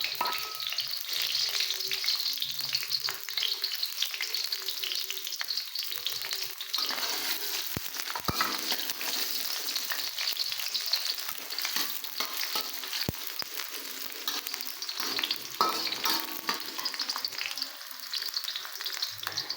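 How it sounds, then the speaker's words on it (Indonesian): Shallots and garlic sauté in a little hot oil, giving a continuous crackling sizzle with occasional sharp spatula scrapes and stirs against the pan, close up, with no talking. "aku tumis dulu bawang merah bawang putihnya sampai layu"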